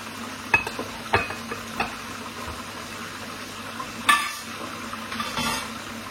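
Onions sizzling in a pan with a steady low frying hiss, broken by occasional clinks and scrapes of a utensil stirring.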